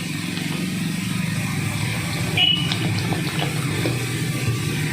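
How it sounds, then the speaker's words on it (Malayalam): Water poured into a bowl of maida flour and beaten egg batter for chicken roll wrappers, a steady running, splashing pour over a low background hum, with no talking. "ഇനി ആവശ്യത്തിനുള്ള വെള്ളം ചേർത്ത് കൊടുക്കുക."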